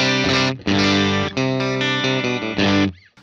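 An electric guitar runs through a UAFX Ruby amp pedal on its silver speaker setting and bright channel, a few loud strummed chords with a driven tone ringing out, then fading.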